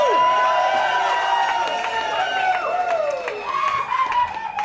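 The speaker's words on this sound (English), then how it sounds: "so make some noise for yourself" A live audience at a comedy podcast show in Austin cheers, whoops and claps loudly and continuously, a dense crowd roar with individual shouts rising through it.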